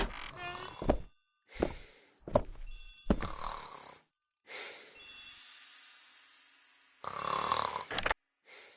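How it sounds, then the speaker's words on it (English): A telephone rings in a hall, in a series of separate bell bursts with short gaps, one ring trailing off into a long fading decay before the final rings, heard alone without talk. "The telephone in the hall is ringing."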